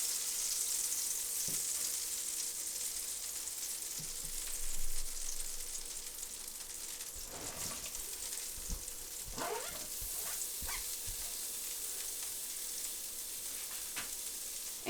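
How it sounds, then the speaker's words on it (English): Butter with a little avocado oil sizzles in a hot pan, a soft steady hiss heard close but at low level, with a few handling knocks and scrapes in the middle and no talking. "I've got my hot pan ready. I'm adding my butter, a little bit of avocado oil so that the butter doesn't burn as quickly."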